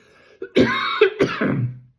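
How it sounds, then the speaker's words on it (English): A man coughs and clears his throat, a short harsh burst followed by a longer rasping clearance, close and fairly loud with no words. "Can't start a video without a cough, can I?"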